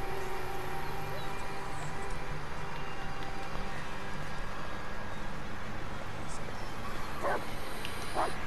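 In the Blair Witch video game, a dog yips and whimpers faintly amid a dense, steady wash of forest ambience and noise, the calls brief and distant near the end.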